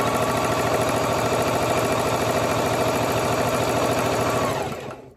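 A sewing machine runs steadily as ribbon trim is stitched onto a toddler's mermaid tutu, a continuous close mechanical whir with a rapid needle rhythm that holds even and then winds down and stops near the end.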